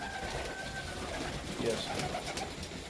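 Birds, apparently pigeons, give soft cooing calls outdoors. The low, gentle coos come at a moderate distance over a background of outdoor noise and faint voices.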